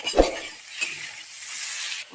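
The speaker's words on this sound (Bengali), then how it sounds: "এবার বেসনটাকে দিয়েও ভালো করে ভেজে নিতে হবে।" Gram flour (besan) frying in a pan with potatoes for ghugni, giving a steady soft sizzle after a quick spoon scrape and clink at the start, close and continuous to the end.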